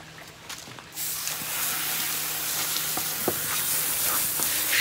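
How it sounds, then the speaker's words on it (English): Running water rinses scales off a white perch, a continuous splashing hiss with small clatters and knocks, close and steady with no talking. "I'm gonna rinse these scales off"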